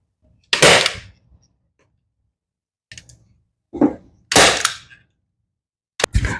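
Staple gun firing into fabric stretched over a bar stool seat during reupholstering: four or five loud, sharp snapping shots spaced irregularly, separated by near silence, each with a short mechanical click.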